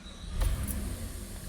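A 2016 Chevrolet Impala with its check-engine light on and a knock sensor fault code starts up: a brief crank burst followed by a low, quiet idle that settles and continues.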